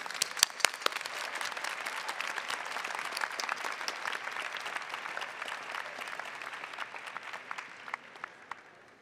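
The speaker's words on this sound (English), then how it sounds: "Please join me in a round of applause for the Master of Medical Management students" A graduation audience at a university commencement ceremony applauds graduating students, a long spell of distant, sustained clapping from a large hall with individual claps standing out, slowly thinning at the end.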